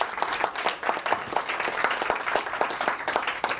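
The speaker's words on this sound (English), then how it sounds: "Applause for Sarah." An audience applauds Sarah Cordiner with steady, dense clapping, many hands at close range, continuous throughout without a break.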